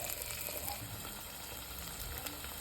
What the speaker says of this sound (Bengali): ভালো করে নাড়াচাড়া করে নেবে এর মধ্যে দিয়ে দিবে আদা রসুনের পেস্ট